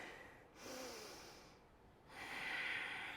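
Deep breathing during yoga practice: a long, close, airy inhale followed by a slow exhale, soft and unhurried with no talking.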